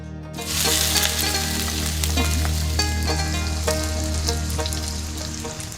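Loud, steady sizzle of onion frying in hot oil in a home kitchen, continuous and close throughout with small crackles and no talk.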